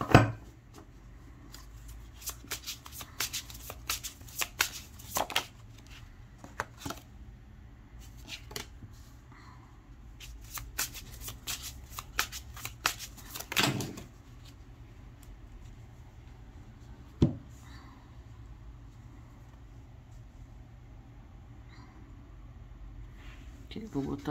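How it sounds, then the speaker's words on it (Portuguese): A deck of cards being shuffled, heard as clusters of quick riffling clicks and flutters in the first half, under and between a person talking. "deixa eu embaralhar de novo"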